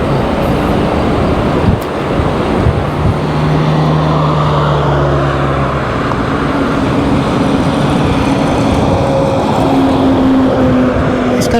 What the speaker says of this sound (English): And here comes a real live coal truck for you.